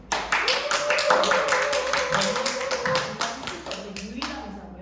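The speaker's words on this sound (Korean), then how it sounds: "여기서 박수가 나와요" Clapping from an audience at a business presentation, a run of sharp rhythmic claps over a sustained tone and voices talking underneath.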